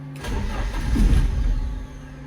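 A Datsun 620 engine with no chokes cranks by start button and catches, rumbling up briefly before settling into a low idle, close by with no talking.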